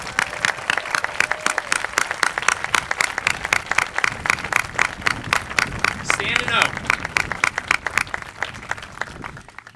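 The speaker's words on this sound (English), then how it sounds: "Give her a round of applause again." A press conference audience breaks into rhythmic, fairly close clapping, many hands striking in a quick steady beat with some crowd murmur, while a voice briefly speaks over it partway through.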